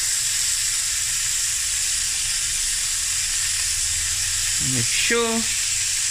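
Boerewors sausage frying in a pan gives a steady, loud sizzle throughout, with a brief scrape or clink near the end; a voice speaks briefly.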